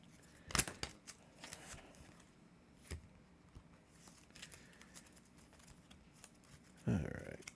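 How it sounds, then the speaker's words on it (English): Cards from the Earthborne Rangers board game riffled into a shuffle: a sharp papery burst early on and another near the end, with quiet handling between and a person talking nearby. "Oh, I gotta shuffle this up"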